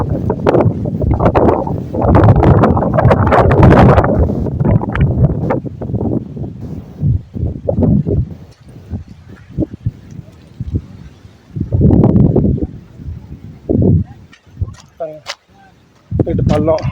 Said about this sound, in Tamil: காற்று வந்து ஒரு 100 கிலோமீட்டர் ஸ்பீடில் அடிக்குது